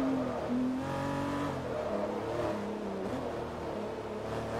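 A Lexus LFA's engine revs in the racing game Forza Motorsport 3, its high-pitched wail rising and falling through repeated gear changes, loud and continuous with no talking.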